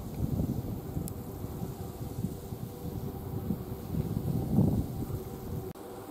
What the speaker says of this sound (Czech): Docela tady jako fouká nahoře